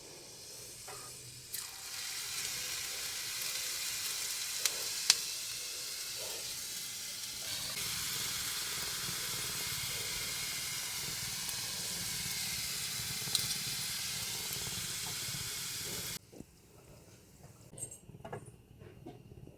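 Murukku sizzle steadily in hot oil, a loud, continuous frying hiss with faint bubbling that drops away sharply near the end, leaving quieter clatter.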